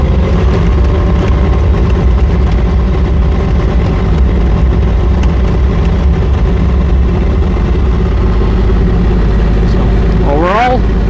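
Engine of a JoyT5 JT5350 3.5-ton mini excavator running steadily with throttle raised, a loud continuous drone throughout, with a brief rising whine near the end.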